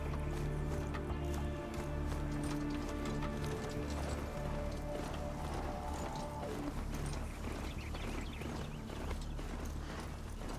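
Hooves clip-clop steadily from a horse in a video game, a continuous rhythmic trotting over a layered ambient background with a creaking mechanical cart-like undertone, moderately quiet and with no speech.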